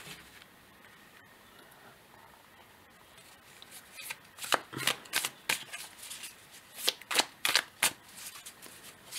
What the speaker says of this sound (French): Je vais essayer d'étaler un peu pour que vous voyez les cartes.